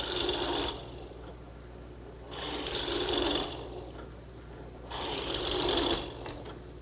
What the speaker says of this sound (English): I'm going to use the plug cutter, which is a tool like this, set up in my drill press, and I'll just cut my own plugs out of a piece of scrap